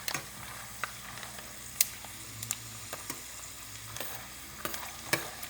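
Mixed cereal chevdo being stirred as it roasts in a pan: scattered scraping and rustling strokes with sharp clicks over a soft, steady background sizzle, no talking.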